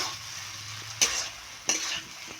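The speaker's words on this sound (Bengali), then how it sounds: "এখন আমি নেড়ে চেড়ে নামিয়ে নেব" A spoon stirring pumpkin and fish roe curry in a pan: a steady sizzle underneath, with two sharp scrapes or clinks of the utensil against the pan, close and fairly loud.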